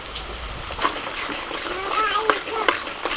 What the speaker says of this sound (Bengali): কারি পাতা তেলে দিলেই একদম ফটফট ফটফট করে ফুটে উঠবে